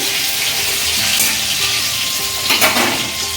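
Potatoes frying in a pan make a loud, close, constant sizzle, swelling briefly as they are stirred and tossed toward the end, with no speech.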